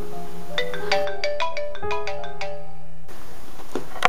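A phone ringtone chimes from an unknown caller, a bright melodic sequence of repeated electronic tones played loud and close, with a brief pause partway through and no talking over it.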